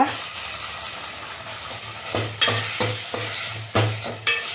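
Vegetables frying in hot oil in a pan, a steady soft sizzle broken by several louder bursts of stirring as the pieces are moved around, close up with no voices.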